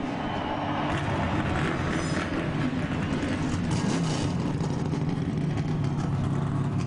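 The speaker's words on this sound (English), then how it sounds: "Engines are fired up." Race car engines roar together on the grid at Michigan International Speedway before the 2007 Michigan 200, a dense, continuous rumbling wall of engine noise heard from a distance, steady with no pauses.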